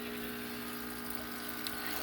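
An aquarium waterfall pump hums in a fish room beside a 125-gallon tank, a steady low drone with a faint watery trickle and no talk.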